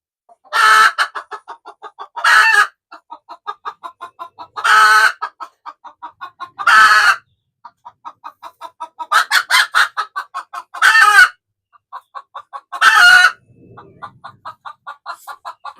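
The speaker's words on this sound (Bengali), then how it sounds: "মুরগিটা ভয় পেয়েছে।" A frightened hen sitting on duck eggs clucks loudly and repeatedly, with sharp squawking bursts between rapid runs of clucks, close to the listener and without talk.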